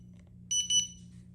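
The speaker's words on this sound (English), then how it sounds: "the alarm literally just went off" An RC battery charger sounds its end-of-charge alarm: two short, shrill electronic beeps in quick succession, clear and close over a low steady hum, then a faint fading tail.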